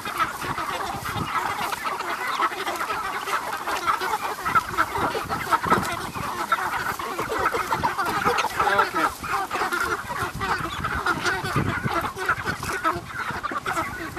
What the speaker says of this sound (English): I have to kind of shoo these chickens to get them away from the back edge.